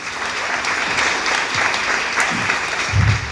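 Loud, dense audience applause at a talk on superstition, a continuous roar of many hands clapping close up, with a few low voice-like sounds near the end.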